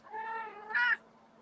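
A kitten gives a single drawn-out meow that rises into a louder, brighter cry near the end, heard close and clear against a quiet background.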